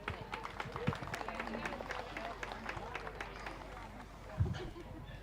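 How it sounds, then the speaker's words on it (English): Audience applause in the show ring at the 2023 Dunn County Swine Show, a steady patter of many hands clapping from a crowd, moderately loud and filling the space with a couple of thumps. "Just give that young man a big round of applause."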